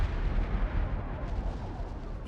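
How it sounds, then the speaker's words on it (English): Gunfire and heavy blasts on a prison ship in the video game SWTOR, a rumbling barrage of booming impacts with low thuds rolling together, loud and close, no voices. "It feels like someone's shooting at us."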